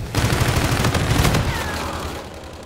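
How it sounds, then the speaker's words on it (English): Friendly bombardment in Infinite Warfare multiplayer: a dense burst of rapid gunfire and muffled explosive booms, loud and close, tapering into a rumbling tail. "Friendly bombardment incoming."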